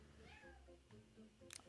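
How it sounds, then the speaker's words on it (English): Domestic cat meowing in a radio studio, a soft, faint, drawn-out meow followed by a brief sharper cry, heard close but at low level. "I heard a cat."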